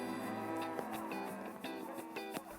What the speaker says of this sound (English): The breed of cows we run up here are Hereford.